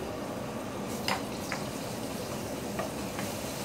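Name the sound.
garlic frying in a pan for kashla with coriander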